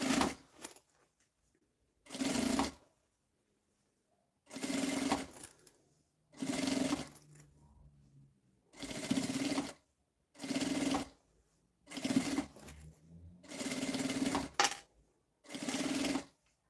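Sewing machine stitching bias binding onto a fabric bag in repeated short bursts of motor whirr, about eight runs of a second or so each, separated by quiet pauses with faint handling sounds.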